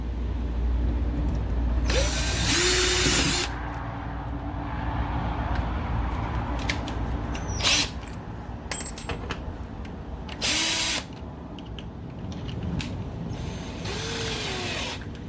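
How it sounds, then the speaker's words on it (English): A power drill whirs in several separate bursts, some long and some brief, drilling a hole for a battery box on a 1979 Fiat Spider 124, with quieter mechanical clicks and handling noise between them. "what we're going to do is drill a goddamn hole"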